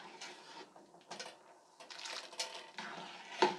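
A spoon stirring boxed Kraft mac and cheese in a pot, making faint intermittent scraping strokes with a short metallic clink near the end.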